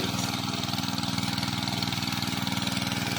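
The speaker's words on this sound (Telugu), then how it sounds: "చూడండి ఎలా ఉన్నాయి మోటార్లు. ఇక్కడ కరెంట్ లేదా, దానికి పెట్రోల్ ఇంజన్." A small petrol engine driving water pumps at a canal runs steadily at idle, a close, even, throbbing drone with a regular pulse and no voices.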